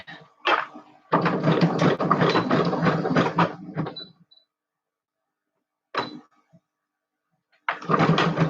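A sewing machine stitching a wide zigzag while making a collar, running in loud, close bursts of rapid mechanical whirring with a pause and a brief clunk between runs, no talk.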